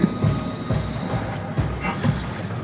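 A shuttle train in the SOMA video game rumbles steadily with rhythmic clunks and a metallic rolling drone, close and continuous throughout.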